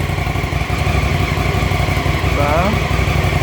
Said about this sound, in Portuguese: o ruído do motor.